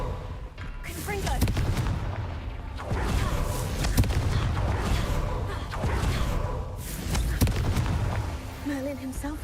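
Fire spell explosions from the Confringo charm in Hogwarts Legacy, a steady barrage of booming blasts and crackling bursts roughly every two seconds over dense rumbling game noise, loud and close.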